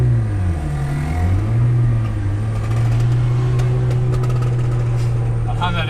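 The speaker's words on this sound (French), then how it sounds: "Ah, on a les Vespa qui pétaradent." Vespa scooters rev and pop during a parade at the Autodrome Italian Meeting at Montlhéry, a steady buzzing engine drone with rising and falling pitch, close and loud throughout.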